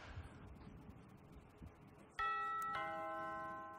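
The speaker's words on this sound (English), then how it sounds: "if now somebody rings my doorbell" A two-tone electronic doorbell chime rings out clearly, cutting through faint background music, its tones lingering as they decay.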